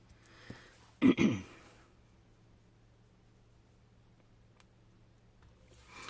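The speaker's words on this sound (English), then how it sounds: "So I just had to pause and clear my throat there." One short, rough throat clearing sounds close by in an otherwise quiet room with a faint background hum.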